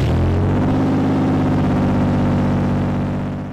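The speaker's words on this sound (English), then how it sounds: "That's the sound of a car starting with no catalytic converter." A Toyota 4Runner with its catalytic converter stolen starts and runs with a loud, raw, motorcycle-like exhaust, a steady deep rumble holding close and strong for a few seconds before it begins to fade.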